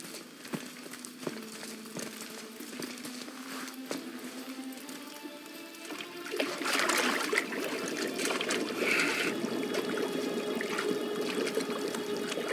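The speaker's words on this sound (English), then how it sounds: "hold his head under the water and don't let go" Churning, splashing water as a head is held under the surface in the God of War video game, a steady wash of liquid that swells louder partway through, with no voices.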